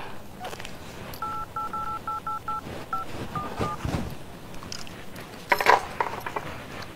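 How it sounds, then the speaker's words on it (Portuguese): Telephone keypad tones as a number is dialed, a quick run of short evenly spaced beeps followed by a few slower ones, then faint handling clicks and a brief rustle near the end. "Eu vou ligar pra minha amiga."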